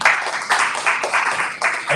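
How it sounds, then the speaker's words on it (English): A crowd at a live book event claps steadily in continuous applause, dense and fairly loud, swelling in a few waves over two seconds. "ladies and gentlemen, a round of applause to Steve Gilson."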